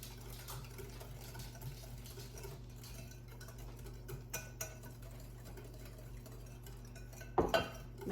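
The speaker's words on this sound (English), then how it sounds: "I'm going to go ahead and add my butter while I'm mixing this all together" Batter of milk, flour and butter mixed in a bowl for a blackberry buckle, a quiet wet, soft stirring patter with small clicks of the utensil against the bowl, over a low steady hum.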